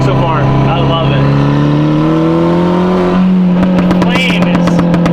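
An all-wheel-drive VR6 Audi TT accelerates hard while driving, its engine note climbing steadily in pitch as it revs, loud and close from inside the cabin, with a brief clatter of other noise near the end.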